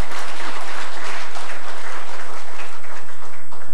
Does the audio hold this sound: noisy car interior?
no